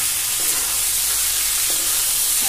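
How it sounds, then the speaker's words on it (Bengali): Mixed vegetables frying in a pan make a steady, loud sizzle close up, with occasional soft scrapes and clacks as they are stirred. "দেখো আর একবার অল্প নাড়াচাড়া করে দিই। নিচে লেগে যাচ্ছে।"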